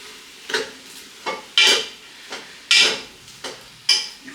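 Asparagus and garlic shrimp sizzle steadily in a pan while a utensil stirs them, with about six sharp scraping, clattering strokes against the metal coming in an uneven rhythm, close and fairly loud over the constant frying hiss.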